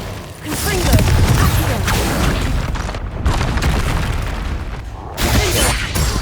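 Confringo fire spells in Hogwarts Legacy erupt in loud, booming blasts with crackling debris. Several bursts overlap against a dense, busy game soundscape.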